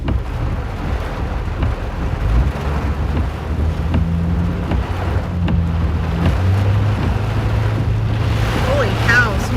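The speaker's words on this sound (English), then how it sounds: "It's definitely windy here." Strong derecho wind roars and buffets steadily during a storm chase in Illinois, a continuous low rumble with gusty surges throughout, close and loud.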